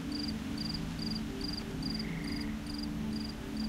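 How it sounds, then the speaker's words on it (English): Crickets chirp in steady, evenly spaced pulses within the video game Antichamber, a continuous high trill over a low ambient hum, with a second fainter chirp briefly joining midway. "Why is there a cricket noise?"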